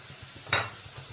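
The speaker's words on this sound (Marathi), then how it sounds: "आता वाटण आपल्याला 2 ते 3 मिनिटं छान तेल सुटेपर्यंत परतून घ्यायचंय." Masala paste sizzling in oil, a continuous hiss that rises into one brief scrape of the spoon partway through, close and moderately loud.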